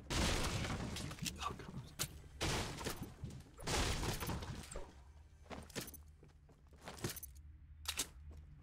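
Video game gunfire rattles in dense bursts of rapid shots with short gaps between them, loud and continuous at first, then thinning to scattered single cracks.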